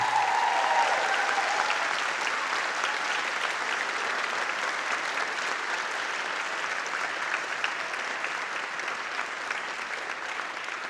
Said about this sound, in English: Would you give one more special ovation to Mr. DeCutler and the students from Townview High School?